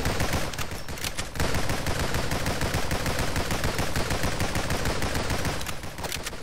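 Rapid assault rifle fire in the top-down shooter game NIMRODS rattles out in dense, continuous automatic bursts, loud and sustained with short dips between volleys.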